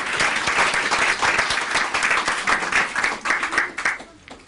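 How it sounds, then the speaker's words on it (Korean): A crowd at a Korean childcare policy forum gives a mother a long round of applause: dense, loud, steady clapping that fades slightly toward the end. "박수를 좀 크게 보내드리겠습니다"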